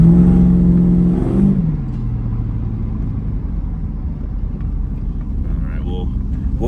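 A 1985 Chevrolet Squarebody C10 truck engine revs loudly and close, its pitch falling as the throttle is released, then settling into a steady low rumble.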